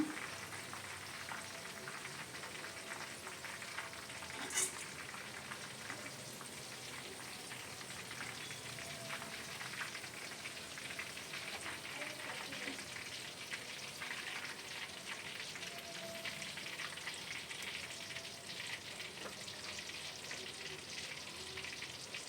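Jackfruit chips deep-frying in hot oil give off a steady, dense bubbling sizzle, soft and even like light rain, that continues throughout with no speech.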